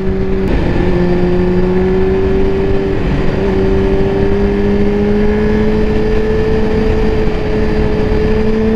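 Honda CBR 600 F sport motorcycle engine running at higher revs, a loud, steady, sharp drone whose pitch climbs slowly throughout, with no talking.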